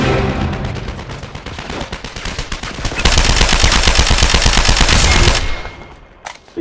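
Gunfire in the Uncharted 3 co-op beta on the Chateau stage: rapid, close automatic bursts build into a dense, loud barrage, then trail off into a few scattered shots.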